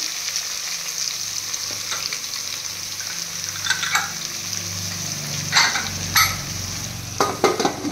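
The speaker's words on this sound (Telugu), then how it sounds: "ఇదిలా బాగా కలుపుకున్న తర్వాత ఇది మంచిగా మగ్గనియాలి" Bottle gourd pieces sizzle in a pan while being stirred, a steady quiet fry with a few scraping strokes of a spoon toward the end; no talking.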